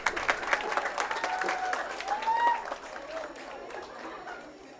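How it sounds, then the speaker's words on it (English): Audience at a certificate ceremony applauding, a dense crowd of clapping that builds and then slowly tapers, with a voice speaking over it. "Could I please have a louder round of applause?"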